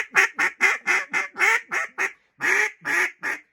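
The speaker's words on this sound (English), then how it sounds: "You hear ducks on a marsh, you'll hear..." Loud, close duck quacks ring out in a rhythmic series of about a dozen sharp notes with one short pause, in the style of competition duck calling for hunting, with no talk over them.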